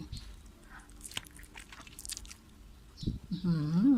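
Close crunchy bites and chewing of freshly fried homemade tofu with a peanut dipping sauce, a few distinct crisp bites followed by mouth sounds, ending in a brief voice.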